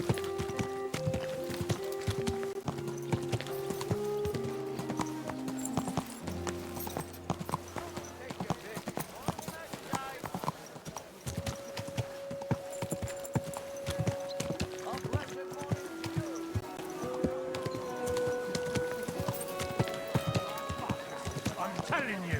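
Horse hooves clip-clop at a steady walking pace in the video game Kingdom Come Deliverance 2, with a brief whinny and background music running throughout.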